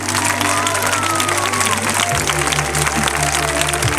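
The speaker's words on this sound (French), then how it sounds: "Et on l'applaudit très fort." An audience at an evening hypnosis show applauds a woman just woken from hypnosis, with steady dense clapping throughout and a low sustained musical hum underneath.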